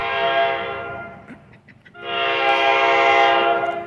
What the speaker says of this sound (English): The New Jersey Transit coming.